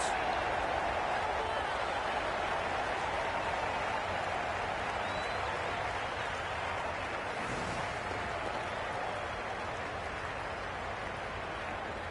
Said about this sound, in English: They will receive now the warmest of receptions from this crowd